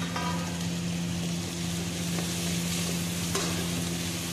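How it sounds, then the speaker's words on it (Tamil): Tomatoes sautéing in a pan with onion, ginger and garlic for a green gram and snake gourd kootu: a constant soft sizzle with occasional faint spoon scrapes over a low hum, no talking. "அடுத்து தக்காளியும் போட்டு நல்லா வதக்கிக்கலாம்"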